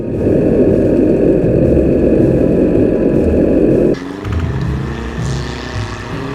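A Soviet troop carrier vehicle drives past during a WWII airsoft battle re-enactment, its engine a loud, steady, close rumble that shifts in tone partway through as it moves on.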